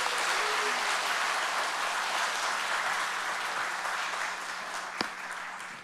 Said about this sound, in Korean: 우리 다시 한번 우리 큰 박수로 합니다